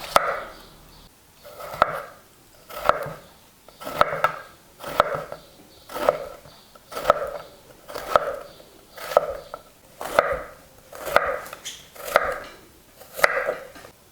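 A knife chops zucchini into half-centimetre rounds on a board, about thirteen sharp, evenly spaced cuts roughly one per second, close and clear with no talking.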